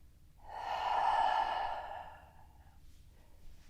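A long, breathy exhale during a vinyasa flow yoga practice, swelling smoothly to full strength and then fading over about two seconds, heard alone and close in a quiet room.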